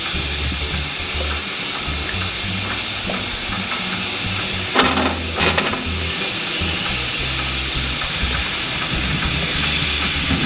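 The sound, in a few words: water boiling in pot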